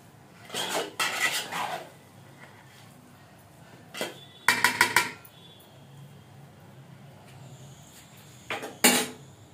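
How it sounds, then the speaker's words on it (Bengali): Metal cutlery scrapes and clanks against a pot while cooked biryani is gently stirred, a few separate bursts of clattering with quiet pauses between them, close and clear. "বিরিয়ানিটা কিছুক্ষণ দমে রেখেছিলাম, হয়ে গেছে। এবার আমি একটু হালকা নেড়ে দেবো।"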